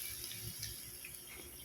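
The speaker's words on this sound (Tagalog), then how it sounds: "Lagyan natin ng tubig" Water runs steadily into a cooking pan for ginataang kalabasa, a faint continuous splashing pour without any speech.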